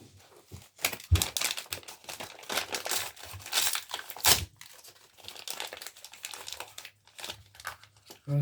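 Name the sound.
opening a paper advent calendar box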